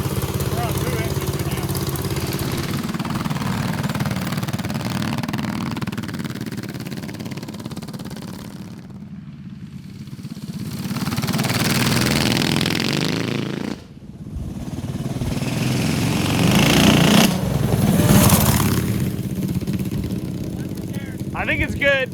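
A 45 HP drag-strip mini bike running on two of its three engines, a steady mid-pitched engine drone that swells and dips with brief drops, heard close with voices over it.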